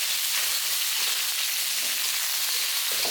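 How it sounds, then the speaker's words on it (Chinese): Chicken pieces pan-fried and then stir-fried in a hot wok to render out the chicken fat, producing a bright, even, close sizzle and crackle that continues without pause. "煎到差不多都上色了，你就炒一炒，把那个鸡油逼出来。"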